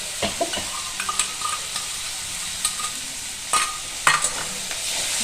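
Chili, ginger and cumin paste frying in a pan with turmeric, giving a steady sizzle broken by scraping stirs and light clinks of a utensil against the pan.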